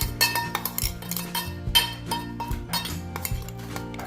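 A spoon clinks and scrapes in a steel mixer jar while stirring ground green chillies, garlic and cumin, giving a run of quick metallic taps and knocks at close range, with no talking.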